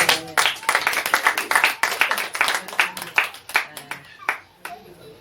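A church congregation claps and applauds energetically for several seconds, loud and close, a dense burst of hand claps that thins out toward the end.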